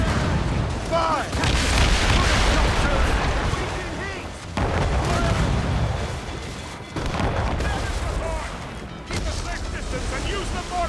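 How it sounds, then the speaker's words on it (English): Heavy ship cannon fire booms repeatedly in an Assassin's Creed Rogue naval battle, loud and continuous, with shouted orders mixed in among the blasts. "Cannon ready! Fire!"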